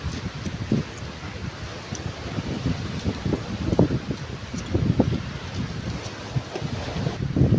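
Strong typhoon wind roars steadily against the microphone, buffeting in gusts with rustling underneath and no clear talk.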